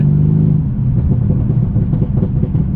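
A 624 bhp Mercedes C63 AMG engine heard from inside the car, a loud, deep V8 rumble accelerating hard through gear changes with throbbing revs.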